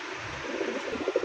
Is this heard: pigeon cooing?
yes